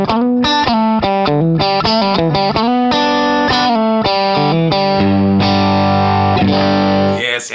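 A budget offset electric guitar in the fourth pickup position, played through effects with distortion and chorus, giving a loud run of choppy chords and picked notes that ends on long sustained ringing chords.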